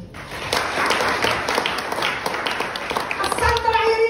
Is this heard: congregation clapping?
yes